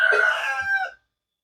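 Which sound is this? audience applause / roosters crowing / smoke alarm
roosters crowing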